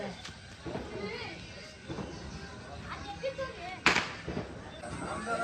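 Several sharp crackling pops of Diwali firecrackers burst out over a few seconds, one louder crack standing out, with voices talking in the background.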